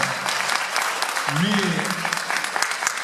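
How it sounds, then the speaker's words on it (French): A lecture hall audience at an environmental colloquium claps in appreciation, a short burst of applause mixed with a voice speaking briefly over it. "Vous avez encore des applaudissements de la salle qui apprécie beaucoup vos analyses."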